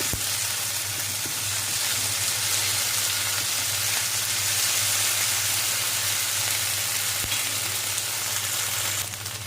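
Crushed garlic sizzles loudly and continuously in a hot pan as it is mixed, a dense unbroken hiss close by with faint stirring underneath and no talk.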